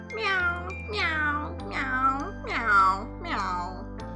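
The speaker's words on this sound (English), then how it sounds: "The fourth cat I approach is a noisy one." Five drawn-out cat meows from a video game, each rising then falling, close and clear in a steady rhythm with a low background hum throughout.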